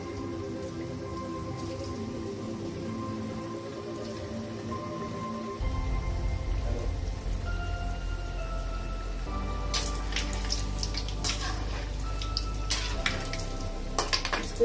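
Hot oil sizzles in a kadhai as black colouring goes into it while Holi treats are made at home: quiet at first, then a sudden, continuous crackling hiss with scattered spits and pops, close and fairly loud.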